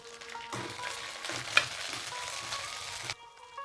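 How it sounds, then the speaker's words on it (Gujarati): Quiet, steady sizzling of pigeon peas and flat beans frying in about two spoons of oil, a soft continuous hiss that stops abruptly near the end. "એ જ પેનમાં આપણે બે ચમચી જેટલું તેલ લઈ લીધેલું છે તેમાં આપણે તુવેરના દાણા અને પાપડીને સાંકળી લઈએ"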